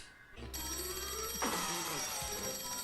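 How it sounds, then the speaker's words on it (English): A telephone bell rings loudly and continuously in a 1994 animated Christmas cartoon, its bright, dense trill starting abruptly after a brief quiet moment and holding steady to the end. "It's just a phone ringing."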